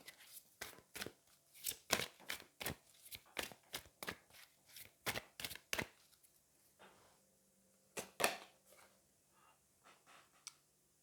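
Angel oracle cards being shuffled, a run of sharp papery riffles and flicks in quick rhythm for several seconds, a pause, then a few more isolated snaps, close and clear with no talking.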